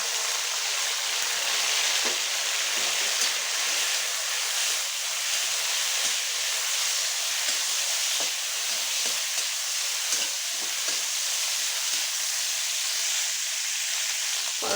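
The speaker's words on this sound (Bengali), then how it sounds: "তেলটা একটু গরম হলেই আমি তার মাঝে এই করলাটা হলুদ দিয়ে মাখানো আছে সেটাকে আমি তেলে ছেড়ে দিলাম" Bitter gourd coated in turmeric fries in hot oil, giving a steady, close sizzling hiss that runs on without a break, with small crackles and pops scattered through it.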